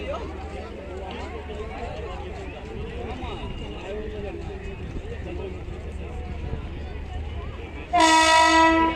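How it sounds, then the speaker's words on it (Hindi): A Nepal Railway train near Janakpur, rumbling past with talk over it, then sounding a loud, sustained horn blast near the end. "हॉर्न दऽ रहल छै ट्रेन।"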